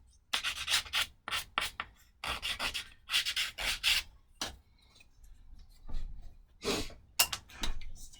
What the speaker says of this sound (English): I use various sanding blocks. This is just a nice one to be able to rough edges around.